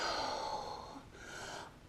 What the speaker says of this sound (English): Just take a couple of deep breaths.